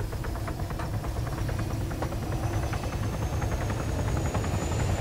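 A video game helicopter takes off with a steady, thick rotor chop and engine drone, its beat loud and continuous the whole way through, and no voices are heard.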